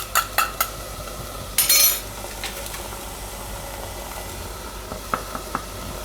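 Ginger, chili and garlic tip into a hot pan for a Gujarati rasiya muthiya curry, setting off a low steady sizzle with a burst of frying near the middle and a few sharp clinks of a utensil against the pan at the start and end.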